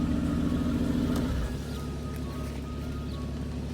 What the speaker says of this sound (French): Démarrage à froid de l'Aventador S, 740 chevaux, V12, boîte simple embrayage.